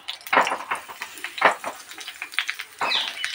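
Halved eggplant frying in oil in a kadai over a gas flame, with scattered sharp clinks and scraping knocks of utensils against the pan over a faint sizzle, close up and without talking.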